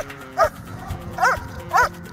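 A police dog barks during standoff training, three sharp clear barks spaced unevenly at close range over faint background noise.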